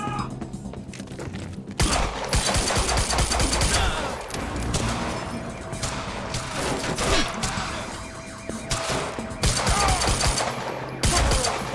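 Sustained bursts of rapid gunfire in the Quantum Break video game, loud and dense with brief pauses, with a short quieter gap near the start before the shooting erupts again.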